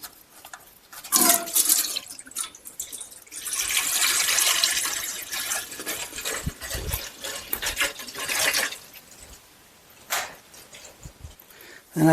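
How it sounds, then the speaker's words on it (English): Coolant drains from the engine drain plug of a GM 2.4 Ecotec engine, a splashing, trickling liquid flow that swells and fades in bursts over several seconds, close by with no talk. "You can open that up and that'll drain the remaining coolant out of here"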